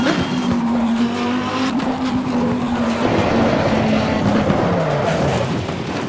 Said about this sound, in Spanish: Y otro frenazo que vamos a pegar aquí.